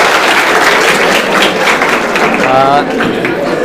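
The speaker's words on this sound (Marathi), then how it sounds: "एकदा सर्वांसाठी टाळ्या होऊन जाऊ द्या" Crowd of students at a quiz event in a study hall applauds together, a broad continuous clapping wash with faint voices murmuring underneath toward the end.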